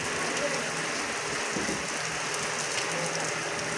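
Steady rain pours down on surfaces in a continuous dense hiss, loud and unbroken throughout, with no voices over it.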